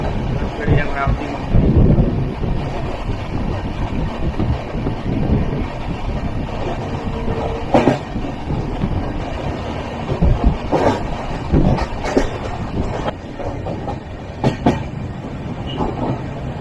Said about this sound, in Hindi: ट्रेन की स्पीड 76 किलोमीटर पर आवर तक चल रही है